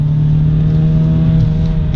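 BMW E30 engine with a 316 motor, held at a steady high rev during a drift build session, a loud, close, sustained droning hum with strong tonal harmonics and no break.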